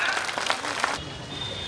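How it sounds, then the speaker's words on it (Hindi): Crowd applause at a Bahujan political rally in Uttar Pradesh welcoming speakers, a steady burst of clapping that drops off abruptly into quieter background noise. "जोरदार तालियों से स्वागत"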